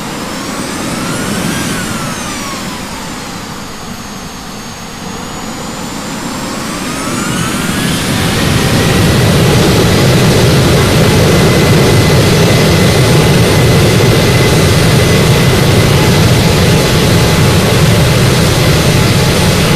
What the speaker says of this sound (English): runway 18 center, you're cleared for takeoff